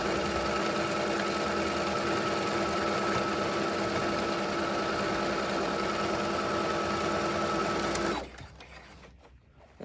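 A sewing machine stitches fabric under its presser foot at a fast, steady, rapid mechanical rhythm. It runs close and clear for about eight seconds, then stops abruptly, leaving near silence.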